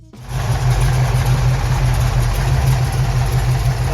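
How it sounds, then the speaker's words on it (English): A Dodge 440 six-pack big-block V8 runs steadily at idle, a loud, deep, continuous rumble with an even low throb and no talking. "Number 9. Dodge 440 six-pack."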